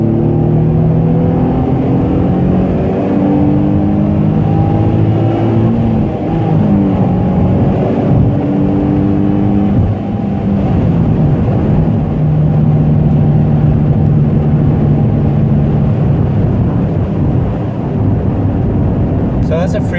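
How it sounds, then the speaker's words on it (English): A 2007 Nissan 350Z Nismo accelerates hard up a freeway on-ramp. The loud engine note climbs steadily through the gears, with a brief dip at each shift and road and wind roar underneath. "So that's a freeway pull for you guys."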